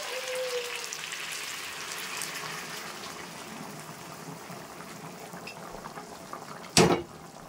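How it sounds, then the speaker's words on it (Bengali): Water poured into a pan of slow-browned, spiced meat, giving a steady bubbling, gushing wash throughout with one sharp, loud clatter near the end; no voices. "তো দেখো এবার কিন্তু আমি জল দিয়ে দেবো।"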